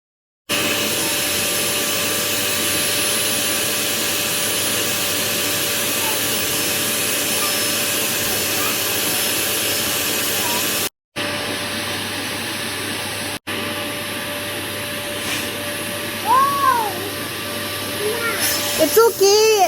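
A vacuum cleaner running indoors produces a loud, continuous whine and roar nearby, briefly cut off and then resumed, while voices speak beneath the motor noise.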